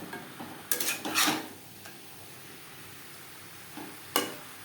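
Potato and jackfruit are stirred with spices in a pan, giving a few brief clattering scrapes of the spatula against the metal over a faint background sizzle, with quiet gaps between.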